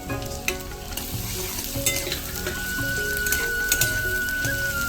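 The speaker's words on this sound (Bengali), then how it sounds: "আদাটা কোনো রকম নর্মাল একটু ভেজে নিয়ে তার সঙ্গে দিয়ে দেবো এখন রসুন কুচি" Chopped ginger and garlic fry in a pan with a close, steady sizzle. Occasional stirring scrapes punctuate it, and soft background music plays underneath.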